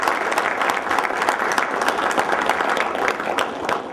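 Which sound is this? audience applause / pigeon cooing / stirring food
audience applause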